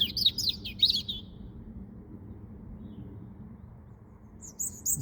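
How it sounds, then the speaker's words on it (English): A bird chirps and sings in quick bright bursts at the start, then falls silent over a low outdoor rumble before a few more chirps return at the end. "the sound coming from that bird is"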